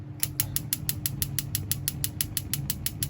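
A gas cooker in a Carthago motorhome is being lit: a fast, even train of sharp igniter ticks, about five a second, close and fairly quiet over a low background hum.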